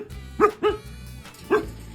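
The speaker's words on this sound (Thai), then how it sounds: "เห่าอะไร มึงเห่าอะไรมึงรอคนมาก่อน แล้วไม่เห่า" A dog at a small shop barks three times close by, two quick barks followed by one more after a pause, over a low background hum.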